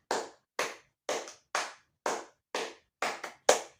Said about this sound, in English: Give yourself a great job clap.